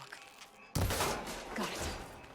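An arrow fired at a lock in Horizon Forbidden West: after a quiet moment, a sudden loud impact bursts out and trails into a sustained, noisy clatter.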